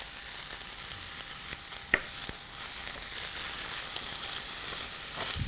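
Mushrooms stir-frying in a pan, a steady close sizzle with occasional scrapes and stirring knocks, no talk.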